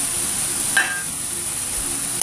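Chopped kangkong stems and other vegetables tossed together in a bowl for pickles, giving a soft, steady rustling stir with a few faint clinks, close up and without speech.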